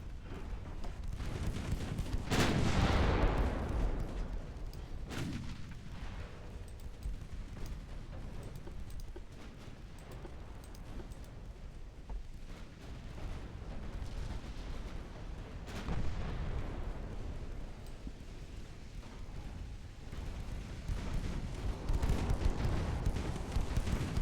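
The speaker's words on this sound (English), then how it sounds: "With her bloody 9-inch guns. Hit him, hit him." Heavy 9-inch naval guns roar in Ultimate Admiral Dreadnoughts, a few big booming salvos rolling out over a constant low rumble of battle, loud and close.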